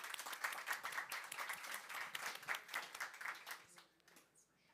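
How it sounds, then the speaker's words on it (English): Conference audience at an agricultural session giving a round of applause, dense clapping from many hands at moderate distance, steady for about four seconds before thinning out and fading away. "Let's give him a round of applause."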